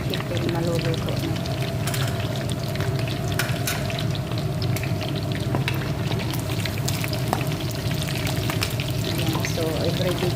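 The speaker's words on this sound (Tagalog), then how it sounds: "At ito naman yung ating chicken maluluto na." Chicken and chopped carrots fry in a pan with a steady, dense sizzle and occasional clinks from stirring, loud and close throughout.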